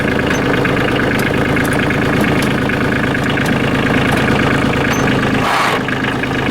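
A Kioti CK27 compact tractor's engine idles steadily after being throttled down, a close, continuous mid-pitched diesel chug with a slight knock and no speech over it.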